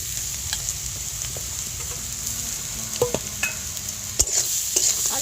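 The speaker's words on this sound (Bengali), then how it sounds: "আলুটা মশলার সাথে ভালো করে কষিয়ে নেব।" Grated potato sautés with spices in a pan, giving a constant hissing sizzle under irregular scraping and tapping as a utensil stirs, with no one talking.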